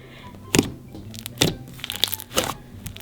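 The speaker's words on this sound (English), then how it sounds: "now we're gonna go ahead and do some ASMR with our too much pigment slime" Thick slime heavily loaded with pigment squished up close, giving a few sharp crackling pops and squelches spaced about a second apart, with quieter crinkles between.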